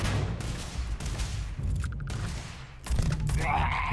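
Gunfire in the video game Starfield: repeated sharp shots and bursts over a noisy combat background, fairly quiet overall, with a brief voice in the mix.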